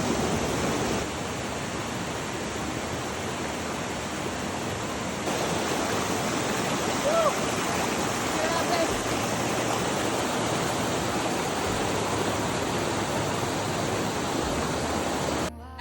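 Strong river current rushing steadily in Tayabas, Quezon, a dense, unbroken wash of flowing water that stays fairly even throughout, with no voices.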